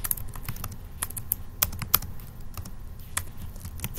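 Fingers type steadily on a computer keyboard, quick irregular clicks and clacks up close, a few keystrokes landing harder than the rest, with no voices.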